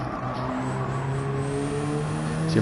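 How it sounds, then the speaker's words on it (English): Race car engine in a racing video game with a steady drone and a thin, rising turbo spool whine sustained over the engine note, heard alone and fairly close. "You have that little spool noise in my headset"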